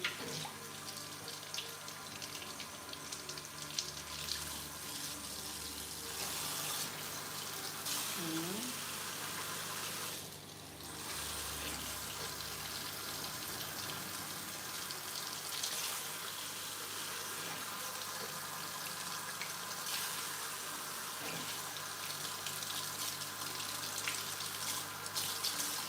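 Tap water runs steadily throughout during hair washing, a continuous close splashing stream with a voice speaking faintly over it.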